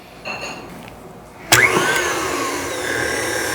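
A stand mixer fitted with a whisk starts up on speed 2 to mix cinnamon roll dough. After some quiet clatter, the motor kicks in abruptly and settles into a loud, steady whirring hum.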